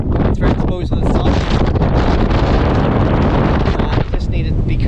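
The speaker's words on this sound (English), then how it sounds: "it was pretty windy" Strong, constant wind buffets the microphone on an exposed mountainside on Nephin in County Mayo, a loud, continuous roar that fills the whole stretch with only slight dips in force.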